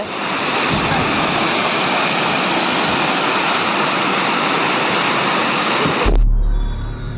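Loud, steady roar of rushing water at Gaganbawada Ghat, with wind blowing, fills the scene without a break, ending abruptly with a brief low rumble near the close.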